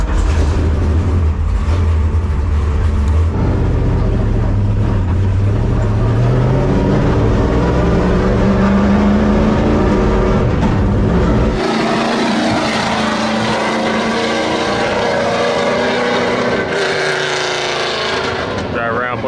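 An RTR Mustang fitted with an ITB NASCAR engine revs hard and drives off, its loud, close, rising engine roar carrying on continuously through gear changes.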